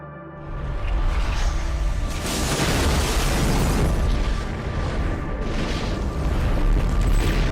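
A nuclear weapon detonation rendered as a sound effect: a sustained, loud, roaring boom that swells in after a brief quiet start and rumbles on continuously with dense low-end power throughout.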